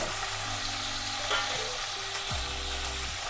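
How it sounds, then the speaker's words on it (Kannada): Curry leaves and eggs fry in oil over a low flame for an egg curry, giving a steady close sizzle with occasional stirring scrapes and a faint tonal hum underneath, no talking. "ಕಡಿಮೆ ಉರಿ ಹಾಕ್ಕೊಂಡು ಕರಿಬೇವು ಹಾಕ್ಕೋತಾ ಇದ್ದೀನಿ."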